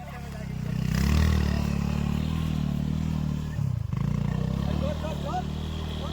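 An off-road motorcycle stuck in a muddy pit labours close by, its engine holding a steady, rough drone that swells briefly as it strains to climb out, with a voice talking over it.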